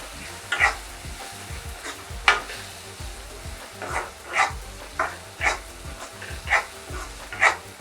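A spatula stirs spices and turmeric into chicken kheema in a hot pan, with rhythmic scraping strokes spaced under a second apart over a faint steady sizzle.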